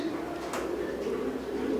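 Pigeons of a running breed cooing softly at close range, a low, continuous murmuring coo that holds steady throughout without any talk.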